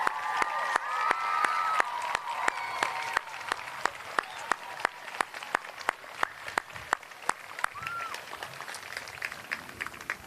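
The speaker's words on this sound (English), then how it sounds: "let's give them a hefty round of applause" Audience at a Memorial Day school ceremony for 3rd and 4th graders applauds military veterans, a moderate room of clapping with a few cheers, accompanied by a steady run of sharp, evenly spaced clicks throughout.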